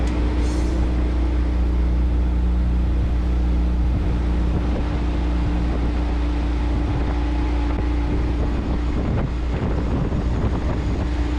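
An old Renault R2087 tractor drives along a road, its engine giving a loud, constant low drone with steady hum and rumble, overlaid with wind buffeting the microphone.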